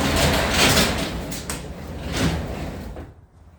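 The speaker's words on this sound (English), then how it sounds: "And next is to loosen the garage door. Turn the handle." A garage door is loosened and opened with a handle, giving a long, noisy scraping slide with a few knocks and rattles that tapers off into quiet.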